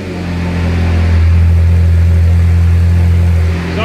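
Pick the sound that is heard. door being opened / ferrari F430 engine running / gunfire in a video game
ferrari F430 engine running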